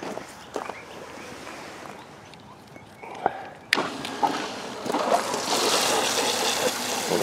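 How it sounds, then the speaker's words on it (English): Water gushes and splashes steadily into a high-banking sluice tub from a recirculator pump, growing louder and fuller toward the end, with scattered knocks and clunks from equipment early on. "Okay, let's make some water go here."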